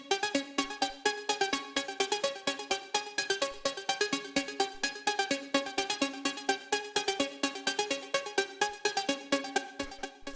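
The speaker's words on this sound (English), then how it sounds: "The first sound we have here is the lead" Bristol techno synth lead at 127 BPM, a simple three-note MIDI pattern repeated in fast, evenly spaced plucky stabs, bright and steady, with no voice over it.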